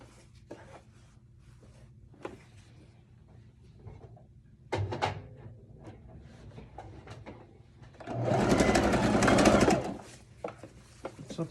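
A sewing machine stitches down fabric on an evening dress, running along the edge of the presser foot in one loud, steady burst of a couple of seconds, with light handling clicks and rustles before it.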